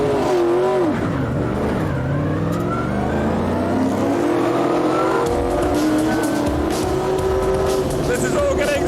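ASCAR race cars at Rockingham in 2001 pull out of the pits and accelerate, engines roaring and rising in pitch with some tyre squeal, loud and continuous under a voice commentating.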